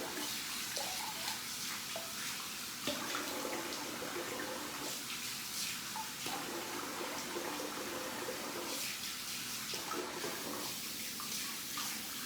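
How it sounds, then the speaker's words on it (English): Water running steadily from a tap while a shaver rinses off after a shave, a constant close splashing hiss with small shifts as hands move through the stream. "I'm gonna rinse off here."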